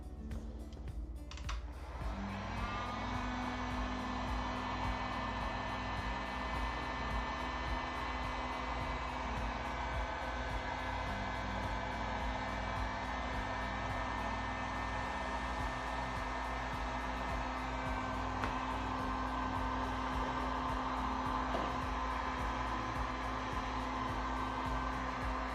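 A hair dryer blows steadily for over twenty-five seconds to dry varnish on a craft piece, a loud, close, unbroken whooshing hum with a steady motor whine.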